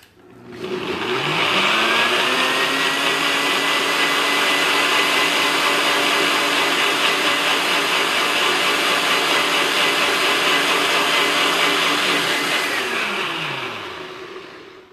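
A blender purées homemade pizza sauce, its motor spinning up quickly into a loud, steady whir that holds for about twelve seconds before winding down.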